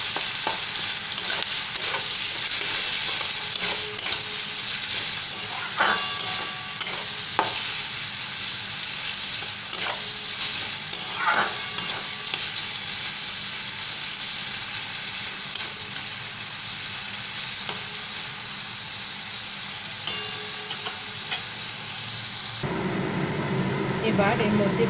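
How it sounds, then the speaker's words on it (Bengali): Potatoes sizzling steadily in a pan with salt while being stirred, giving a continuous close frying hiss broken by scraping and clinking of the spoon, with a voice now and then. "ভাজা ভাজা করব আলুটা।"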